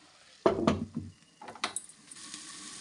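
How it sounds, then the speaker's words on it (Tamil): A spatula stirs an ivy gourd fry in a pan in a few quick scraping strokes, with a soft sizzle underneath and short pauses between the scrapes, close and moderately loud. "அடி பிடிச்சிடாமல் இந்த மாதிரி கிளறி கொடுத்துக்கலாம்"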